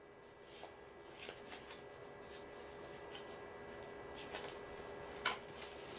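A deck of playing cards is shuffled during a card trick, soft crisp riffling bursts repeating quietly at a close distance, with no voices.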